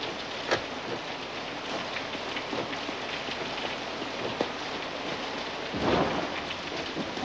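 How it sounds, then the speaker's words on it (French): A thunderstorm in a French film scene, with steady heavy rain hissing throughout and a louder rumble of thunder swelling near the end; no voices are heard. "c'est l'orage et tous ces éclairs qui te rendent un peu nerveux"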